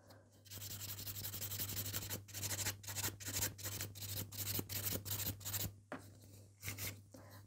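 A nail file rasps across the surface of a natural fingernail to remove its shine, a close, soft scratching that turns into quick, regular back-and-forth strokes over a steady low hum.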